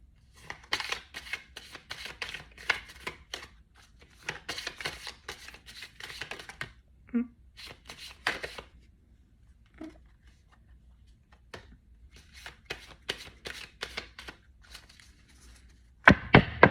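Tarot cards are shuffled in quick crisp riffles and slides, close and fairly soft, coming in several bursts with brief pauses, the cards sticking at times, and a louder flurry at the very end.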